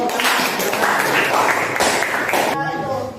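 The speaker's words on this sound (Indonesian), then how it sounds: "Kita kasih tepuk tangan untuk kelompok" Applause from a training-class audience for a student group about to present, dense clapping filling the room for about two and a half seconds before it thins out and a voice begins.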